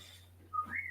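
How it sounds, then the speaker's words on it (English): A short, thin whistle rises in pitch near the end, after a quiet stretch with low background hum. "you can hear her whistling to the dogs"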